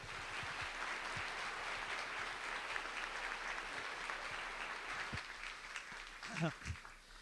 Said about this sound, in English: can we get a round of applause for our panelists here?